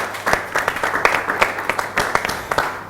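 Audience applause, a smallish group clapping in loose, uneven bursts, close and moderately loud, fading slightly near the end.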